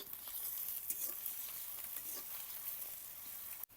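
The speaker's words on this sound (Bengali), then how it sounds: "তেলটা গরম হয়ে গেছে, পেঁয়াজ কুচিগুলো দিয়ে দিলাম।" Chopped onions sizzle in hot oil for a Bengali fish dish, a soft, steady frying hiss with occasional stirring scrapes, ending in a brief cut to silence.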